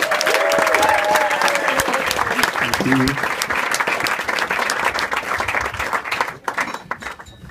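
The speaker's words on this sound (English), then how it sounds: "Please give him your warmest round of applause," Wedding guests applaud the best man at a reception, a steady, dense round of clapping that fills the room for several seconds before tapering off, with someone briefly speaking over it.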